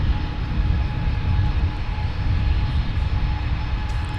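A Sun Country Boeing 737 BCF cargo jet flying for Amazon Prime Air at Minneapolis–St. Paul airport gives a steady, fairly loud engine roar with a deep rumble and faint whine, heard alone without talk.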